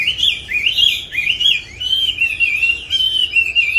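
A caged songbird mimicking the Asian koel's call, sending out loud, close, continuous whistling chirps that slide up and down in pitch.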